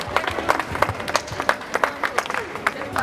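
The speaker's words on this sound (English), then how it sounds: "A round of applause for that." An audience applauds after a speech at a Cancer Awareness Day event in The Gambia, with individual hand claps standing out against the steady clapping and crowd murmur beneath.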